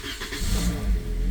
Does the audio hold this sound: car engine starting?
yes